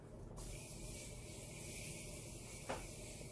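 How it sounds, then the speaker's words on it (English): Jeffree Star by Morphe Set and Refresh Mist is sprayed onto a made-up face, a soft, quiet hiss of mist lasting a few seconds with a brief puff near the end. "To set the face, we are going to go in with the Jeffree Star by Morphe Set and Refresh Mist."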